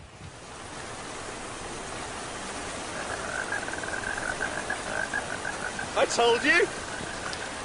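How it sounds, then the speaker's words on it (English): Steady rain falls with an even, wide hiss that grows slightly louder as it goes on, and a voice speaks briefly near the end. "It's raining! That's unbelievable!"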